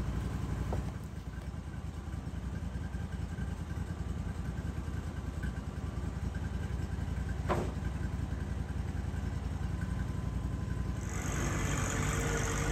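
A steady tractor engine idles and rumbles throughout, a low continuous drone with a brief click partway through and no talking.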